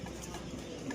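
Pigeons coo at a busy village bird market, soft low coos buried in a dense wash of crowd noise and chatter.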